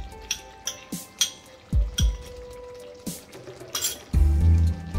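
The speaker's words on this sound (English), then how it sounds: "I'm going to add the fresh cream now at this stage" Fresh cream (malai) goes into a chingri malai curry in the pan, with a series of light clinks and drips early on, then a louder, thicker wet plop and stirring toward the end. No one speaks.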